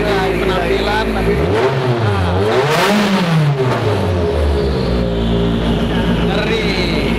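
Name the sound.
modified car exhaust revving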